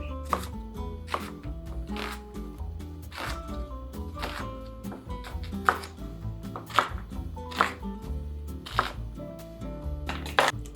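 Onions being chopped with a knife on a board, a steady run of sharp, close chops in an uneven rhythm, about a dozen strikes with no talk.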